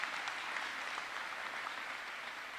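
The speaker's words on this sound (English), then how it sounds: "Round of applause." A graduation ceremony audience applauds steadily and evenly from start to finish, a dense wash of many hands at moderate distance with no voices over it.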